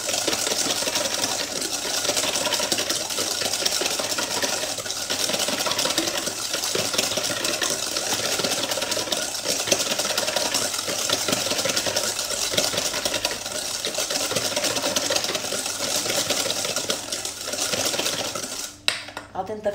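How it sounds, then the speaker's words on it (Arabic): An electric mixer whirs continuously while whisking butter and sugar together for a plum cake batter, a steady buzzing drone with faint clinks against the bowl, close and unbroken until it stops abruptly at the end. "je vais fouetter ensemble le beurre et le sucre"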